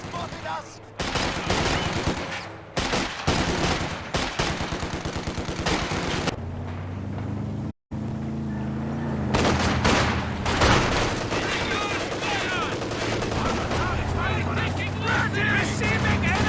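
Machine gun and rifle fire crackle in a WWII strategy video game, with dense bursts of automatic and single shots running nearly nonstop, a brief gap near the middle, and talk mixed in.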